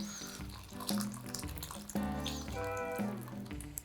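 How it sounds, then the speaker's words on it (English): Water pours into a Pyrex dish of frozen peas and corn in a home kitchen, a steady splashing fill running throughout at close range with tonal ringing over it and no talk. "I just add the water to that, and that's how I'm cooking them."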